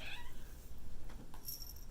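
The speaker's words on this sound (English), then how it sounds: "Sorry if you heard that, that's my cat." A pet cat meows close by in a quiet room, a short strained cry at the start followed by softer rustling and a faint higher call near the end.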